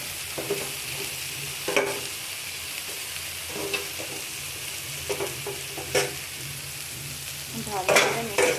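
Fish fries in spiced oil while being stirred, giving a steady close sizzle broken by scraping and clinking strokes of the spoon.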